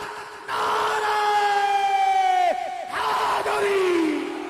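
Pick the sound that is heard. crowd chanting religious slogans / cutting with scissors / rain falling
crowd chanting religious slogans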